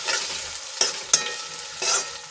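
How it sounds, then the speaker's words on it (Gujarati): Tomato and ginger sauté in a hot pan, giving a steady low sizzle broken by a few sharp spoon scrapes and stirs, close and alone with no talking. "હવે આપણા ટમેટા સોફ્ટ થાય ત્યાં સુધી આપણે એને સંતળાવા દઈશું."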